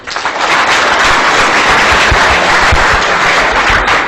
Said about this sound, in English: just give me a round of applause, go.